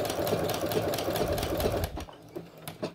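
A sewing machine stitches knit fabric with a fast, even mechanical whir for about two seconds, then stops, leaving a few faint clicks.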